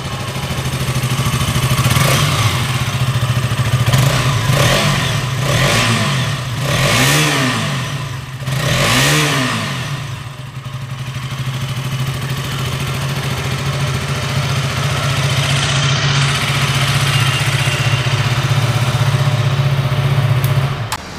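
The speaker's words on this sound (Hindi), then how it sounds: "and now let's hear the exhaust note of this bike" A 2020 KTM Duke 200 BS6 motorcycle exhaust idles steadily, then takes several quick throttle blips that rise and fall before settling back to a loud, continuous idle close by.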